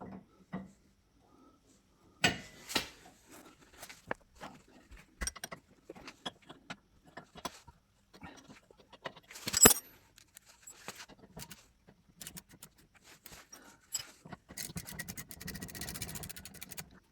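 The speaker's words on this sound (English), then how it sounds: "Use 13 and 17 wrenches to remove the two screws keeping the brake caliper in place." Hand wrenches working the two caliper bolts on the rear brake of a 2016 Opel Astra K 1.6 diesel: quiet scattered metallic clicks, scrapes and clinks at close range, with a denser clatter near the end.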